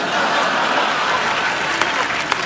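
A studio audience on the Kapil Sharma Show comedy stage claps in steady, dense applause, loud and sustained throughout, with a sharper clap or two near the end.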